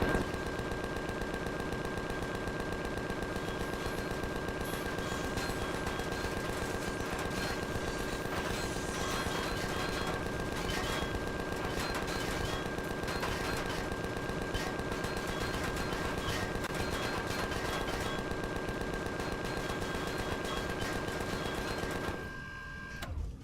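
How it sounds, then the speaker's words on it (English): Machine guns on a mini-pod firing at droids in Empyrion rattle in long, dense, continuous bursts for over twenty seconds, steady and fairly loud, cutting off abruptly at the end. "the droids in the area were little match for the machine guns"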